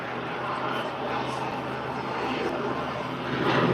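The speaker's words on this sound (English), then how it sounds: "You're watching an aeroplane behaving like a helicopter and hovering." Continuous broad roar of a jet aircraft hovering in place at an air display in Bray, Ireland, holding steady at moderate distance and swelling slightly louder toward the end.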